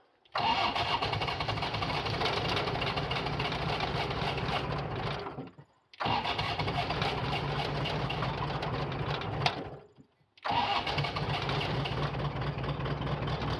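A diesel skid steer sitting out on ice cranks and fires in three long bursts, each a loud, steady churning engine run cut off by a brief silence before the next attempt.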